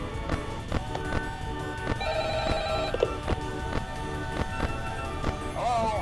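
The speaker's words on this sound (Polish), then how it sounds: "telefon zaczął dzwonić" A phone rings in a VR horror video game, sounding as a repeated electronic bell-like trill amid clattering footsteps and game noises, moderately loud.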